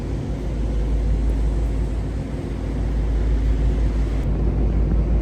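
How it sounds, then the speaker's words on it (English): Ferry ship engines running steadily after start-up aboard the M.V. Coho, a continuous low rumbling drone that stays loud and even throughout, with no talk over it. "Alright, engines have started."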